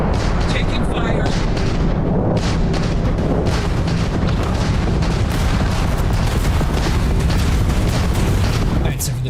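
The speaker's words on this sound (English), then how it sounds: "Warning, warning, incoming fire." Incoming weapons fire during ship combat in the video game Starfield, a dense, continuous barrage of booming impacts and gunfire-like bursts filling the whole stretch, loud and close, with a sharp burst near the end.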